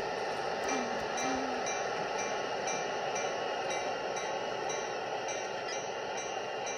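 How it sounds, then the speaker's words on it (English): A long CSX freight train with a big locomotive passes at Cumberland Yard, a continuous loud rumble and hiss of cars with a faint squeal early on. "Yeah, it's a long loco."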